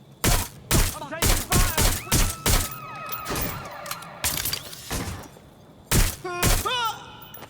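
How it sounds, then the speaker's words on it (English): Loud bursts of gunfire in Watch Dogs Legion, sharp cracks fired in quick clusters with glass shattering and debris thuds between them, all close and punchy. "Shots fired! Shots fired!"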